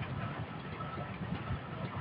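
A 1911 Woods Brothers 18 horsepower engine, an original farm machine, running with a steady, dense low chugging rumble that stays even and close throughout, with no voices.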